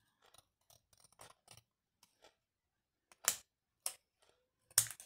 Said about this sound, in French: je vais découper le blanc